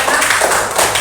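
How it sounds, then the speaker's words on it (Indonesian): Brief, dense clapping from a classroom full of students during an Islamic religious education practice lesson, a close, steady patter of many hands lasting about a second. "tepuk tangan untuk kita semua"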